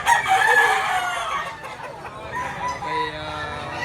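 Several white-tail shock long-tail gamefowl roosters crow and cluck close by, a loud crow in the first half giving way to overlapping clucks and a second crow near the end.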